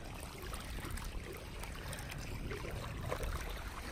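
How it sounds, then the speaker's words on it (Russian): Continuous broadband wash of sea water along a shore by a pier, steady and moderately loud throughout with no voices, the surf merging into a constant rushing hiss. "Я снимаю море."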